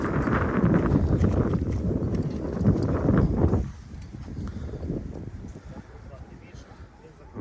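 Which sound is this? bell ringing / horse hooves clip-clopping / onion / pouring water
horse hooves clip-clopping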